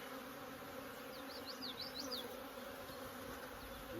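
Honeybees buzzing around a backyard hive in spring, a soft continuous drone with a few individual bees flying close past, steady and faint against the outdoor background, with no talking.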